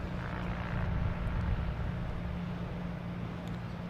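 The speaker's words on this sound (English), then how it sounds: "next to arrive is JetBlue coming in from Wilmington" A JetBlue Airbus A220 airliner lands on runway 27 at Boston Logan, its engines a steady, distant low roar and rumble that holds evenly throughout with no voices.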